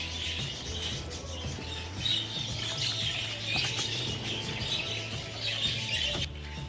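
Many caged birds chirp and squawk continuously in an indoor breeding room with thirty cages and small indoor flights, a dense steady chorus with no voices.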